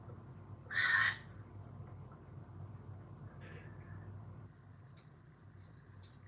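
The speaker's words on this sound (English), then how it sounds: "She's typing in the officer's name." Soft keyboard typing as someone enters a name, scattered quiet clicks with a few sharper taps near the end over low room noise, after a brief louder noise burst at the start.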